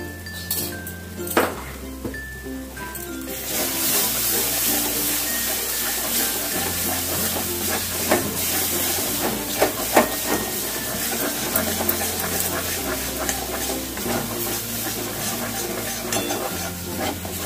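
Masala with green chilli paste frying in a pan for prawn kaliya, a steady sizzle under repeated scraping and clinking strokes of a spoon stirring against the metal.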